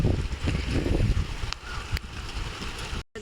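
Gusting wind with rain during a summer downpour, a rough, roaring rush close to the microphone with a few sharp knocks, cutting off abruptly at the end.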